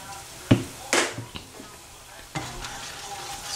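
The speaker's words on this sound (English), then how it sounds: "Stir it for 1 minute." A homemade sauce with chili powder, made for pakoda, is stirred in a pan: a few sharp scrapes and knocks of the spoon stand out over a faint, steady sizzle, with no talking.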